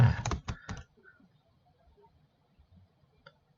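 Quick bursts of keystrokes on a computer keyboard while typing a full name into a Microsoft Word document, close and fairly loud, then fading to near silence.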